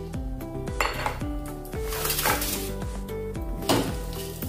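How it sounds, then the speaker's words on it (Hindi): Cashews, almonds, raisins and melon seeds roasting in a metal pan, with repeated clinks and scrapes of a spoon against the pan and a light rattle of nuts, close and fairly steady. "इसमें हम ड्राई फ्रूट्स भुनेंगे।"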